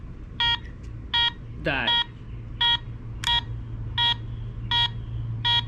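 Loud electronic alarm beeps from an 80cc two-stroke motorized bike repeat at a steady pace, about eight short pulses, with a brief warbling chirp early on and a low hum underneath; a voice speaks briefly.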